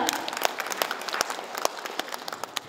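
At a Gyeongsangbuk-do Confucian association ceremony, an audience claps to congratulate an award recipient, producing a fairly quiet, uneven patter of many hands with distinct sharp individual claps standing out throughout.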